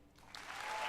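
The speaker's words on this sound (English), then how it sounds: "Please give a warm applause to Marc-Alexis Côté" Applause from an audience at the Ubisoft E3 2019 conference swells steadily, starting light and building into dense, continuous clapping that grows louder toward the end.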